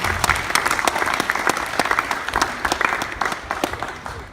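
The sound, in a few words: wedding guests applauding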